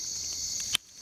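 A single sharp, close click from a colorful yellow, orange and black click beetle snaps out once over a faint continuous high insect-like whine.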